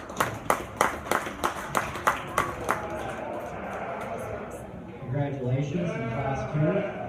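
About a dozen evenly spaced claps ring out at a fair as people applaud kids at a livestock show. The clapping stops after a few seconds, then voices and what may be animal bleats carry on underneath.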